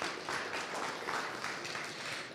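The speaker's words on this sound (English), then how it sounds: "One more time, please, round of applause for Emil." A conference audience at a tech summit applauding, a steady wash of clapping hands that holds evenly for a couple of seconds.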